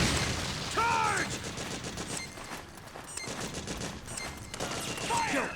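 Battle gunfire in Metal Gear Solid 4 on PS3, dense overlapping volleys of shots with soldiers shouting over them, loud and continuous through the whole stretch.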